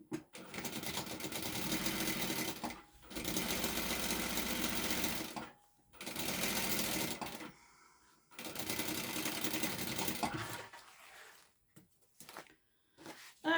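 A sewing machine stitching a bag in four bursts of steady fast whirring, each a couple of seconds long and separated by short silences, close and clear with no talk.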